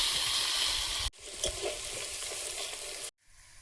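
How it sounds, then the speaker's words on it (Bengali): Potato pieces frying in oil in a wok, a loud continuous hiss of sizzling with stirring scrapes, cut off briefly and then stopping abruptly near the end. "আলুটা ভেজে নেব।"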